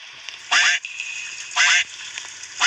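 A robotic toy duck quacks three times at even intervals, each quack bright and buzzy, with a faint background hum between them.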